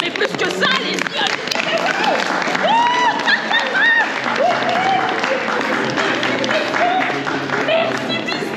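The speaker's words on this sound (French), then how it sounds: "Vous pouvez nous applaudir" An audience claps and cheers at a Disneyland Paris Christmas show, with steady applause running under excited voices and shouts from the crowd throughout.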